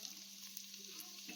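Onions sauté in a pan for cumin-seed samba ghee rice, a steady soft sizzle that continues without a break, quiet and close.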